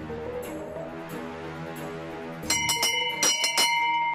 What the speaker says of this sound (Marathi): जा घंटी वाजव